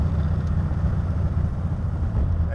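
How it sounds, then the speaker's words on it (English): A 1932 Ford 3 Window Coupe engine rumbles through its side exhaust pipes, a loud, steady, low idle throb heard up close with no talk over it. "Don't those side pipes sound amazing?"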